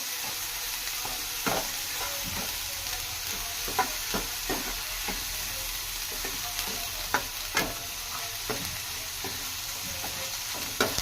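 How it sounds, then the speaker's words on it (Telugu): Village-style snails frying crisp in a pan give a steady, close hiss, broken by sharp, irregular scrapes and clicks from a stirring utensil, with no voices. "ఈ నెత్తాళ్ళు ఇందులో వేసుకొని బాగా ఫ్రై చేసుకోవాలి ఫ్రెండ్స్"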